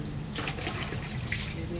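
Water spraying through an air conditioner unit during a home cleaning, a steady hissing splash with dripping and runoff, moderately loud and close throughout.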